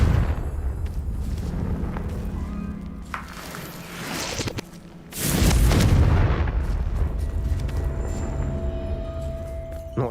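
A fiery blast spell, Confringo, bursts in Hogwarts Legacy: a deep rumbling boom erupts midway, loud and close, then settles into a low roar.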